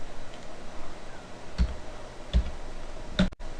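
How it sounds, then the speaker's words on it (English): A computer keyboard is tapped in a few sparse, distinct keystrokes, close and fairly quiet, with no talking. "I'm just going to type in tutorial"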